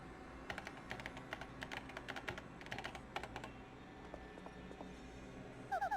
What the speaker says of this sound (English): Use the keyboard in front of you.